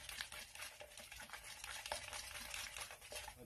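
Baking powder is stirred into sourdough crumpet batter in a bowl, making a soft, continuous wet scraping and swirling close by, faint and steady with no talking.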